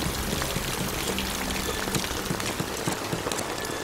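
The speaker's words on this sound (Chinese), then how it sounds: "这大雨下了一夜了" Heavy rain pours down in a village during an overnight storm, a dense, continuous hiss and patter of drops striking surfaces, steady and fairly close with no speech.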